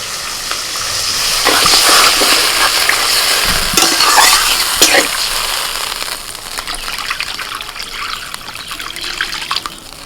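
Water poured into a pan of frying fish masala, a loud gushing splash over steady sizzling, then bubbling and stirring that settles into a softer simmer, close up.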